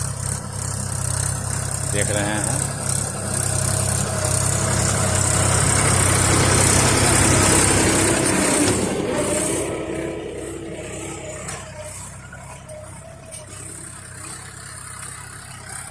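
A tractor engine leveling a field drones steadily throughout, loud and continuous with a low rumble, easing slightly toward the end, with a brief voice speaking over it.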